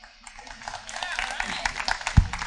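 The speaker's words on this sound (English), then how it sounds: "And while we're applauding" Scattered clapping from a concert audience at a festival evening show, building slightly, mixed with voices and room noise, ending in a sharp nearby clap.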